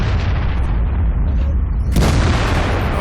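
A tank cannon firing gold ammunition in the game World of Tanks, heard as a loud, deep boom that lands partway through over a constant low engine rumble, one sharp burst followed by a rolling decay.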